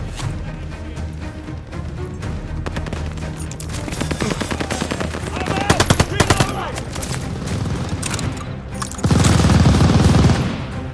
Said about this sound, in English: Suppress that MG!